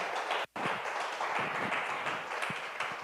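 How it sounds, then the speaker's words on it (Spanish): A crowd claps steadily at a church worship service in a dense, continuous wash of applause, with a brief drop in the middle before it resumes. "denle un aplauso al Señor esta mañana"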